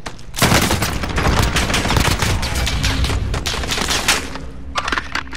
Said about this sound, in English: Oh, I'm getting sniped right now